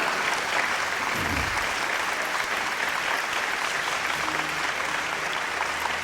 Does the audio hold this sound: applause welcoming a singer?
yes